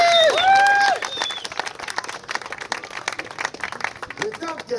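Spectators applaud at a French firefighters' championship in Saint-Brieuc, a crowd clapping in a rough, continuous patter after a brief burst of whistle-like tones, while a voice talks over it.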